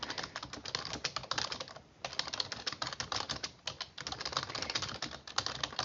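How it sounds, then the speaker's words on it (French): Rapid clicking keystrokes on a computer keyboard as a message is typed in Outlook, steady and close with one short pause partway through, then the typing resumes at the same brisk pace. "j'écris un message en même temps pour mes collègues"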